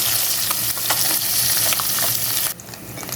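Large fish frying in a pan until crisp, a loud continuous sizzle with bursts of crackling that drops abruptly near the end to a quieter hiss.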